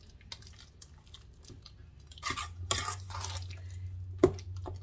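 A spoon working through thick buffalo chicken ranch dip made with sharp cheddar, sour cream and hot sauce, giving soft wet stirring scrapes and a clink against the bowl near the end, with no talking.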